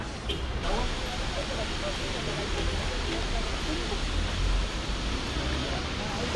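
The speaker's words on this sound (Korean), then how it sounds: "이 성모 마리아가 내려온 이 폭포 어, 이 폭포 밑에 정말 유명한 욕탕이 있다고 하거든요" A waterfall in a mountain village in Ecuador, revered as sacred, with a well-known bath at its foot, pours out a steady, broadband rushing roar that is close, continuous and unbroken.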